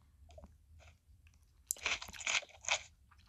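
Crisp crunching bites of a pickle being chewed, a quiet first bite followed by a louder burst of several crunches close to the mouth, with no talk over it.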